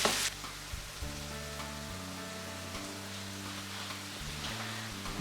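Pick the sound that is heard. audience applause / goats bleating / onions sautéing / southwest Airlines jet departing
onions sautéing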